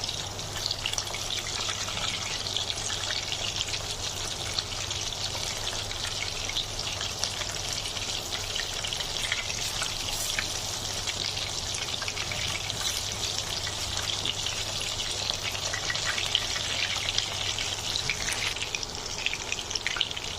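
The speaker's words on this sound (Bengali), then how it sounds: "আমার মাংসটা এক পাশ ভাজা হয়ে গেছে এবার আমি মাংসটা উল্টে দিচ্ছি" Pieces of meat fry steadily in a pan after being turned over, for a traditional Saudi iftar dish called surma. The crackling sizzle is continuous, even and close, with no voices.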